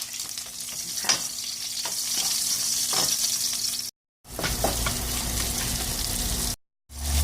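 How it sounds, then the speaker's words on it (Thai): Crushed garlic and chili curry paste stir-fried in a hot wok with oil for a stir-fried mullet dish: a continuous close sizzle punctuated by scraping spatula strokes, with two brief cuts to silence and a short spoken word. "เอากระทะตั้งไฟใส่น้ำมันให้ร้อนนะคะเมื่อกี้ลืมอีกอย่างนะคะมีกระเทียมทุบด้วยนะคะเอากระเทียมใส่ลงไปเลยก็พริกแกงผัดให้หอม"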